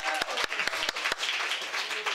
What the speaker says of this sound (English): Uhuru, one more round of applause for those regional reports.